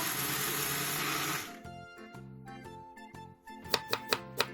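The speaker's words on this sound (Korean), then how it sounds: "양파 1, 사과 4분의 1, 홍고추 3을 큼직하게 썰어 믹서기에 갈아주세요." An electric blender grinds chunks of onion, apple and red chili with a loud, dense whirring roar for about a second and a half. It then stops, leaving short clinks and tapping kitchen sounds.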